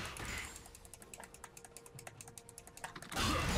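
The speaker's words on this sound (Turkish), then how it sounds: "Umarım bu arada klavye ve mouse sesleri çok fazla gelmiyordur." Rapid keyboard keystrokes and mouse clicks from a gaming setup during a League of Legends match, a steady, fairly quiet patter of close clicks, ending in a short burst of louder noise.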